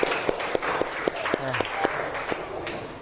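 A classroom group of teachers and students claps together in a steady rhythmic beat, about a dozen sharp synchronized claps at a brisk even pace, with a brief voice in between.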